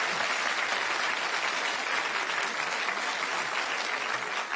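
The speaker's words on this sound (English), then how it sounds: "Big round of applause for them, ladies and gentlemen" Steady, dense applause from a TV comedy panel show studio audience, loud and continuous throughout with no pauses or voices.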